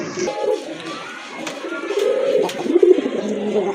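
Rajshahi Giribaz pigeons cooing softly in a loft, low murmuring coos repeating over a faint background hum.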